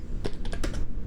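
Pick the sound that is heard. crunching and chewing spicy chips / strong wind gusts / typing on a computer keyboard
typing on a computer keyboard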